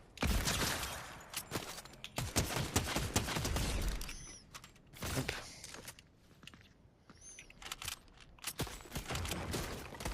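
Rapid bursts of gunfire in Fortnite as bots are eliminated, sharp transient shots in quick clusters with brief pauses between volleys, fairly loud and close within game sound.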